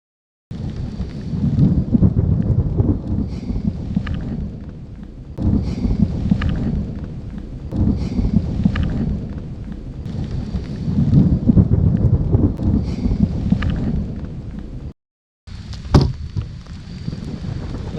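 Rumbling thunder rolls over a lake during a storm, heard from a boat in long loud low swells with wind buffeting, broken by a brief gap near the end.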